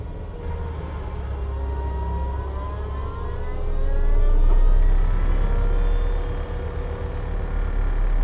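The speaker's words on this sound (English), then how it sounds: "we get the machine running" A machine running with its hydraulics in high flow, a loud steady mechanical drone with a whining tone that swells midway, then settles into a higher, even hum.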